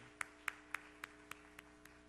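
A church congregation's applause for new members comes through as a faint, distant run of about seven evenly spaced claps that grow softer toward the end, with no voices heard.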